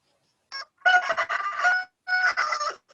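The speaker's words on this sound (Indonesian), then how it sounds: "ayam tuh yang jawab" A rooster crows close by, a short opening note followed by two long, loud, harmonic calls with a brief gap between them, heard alone over silence.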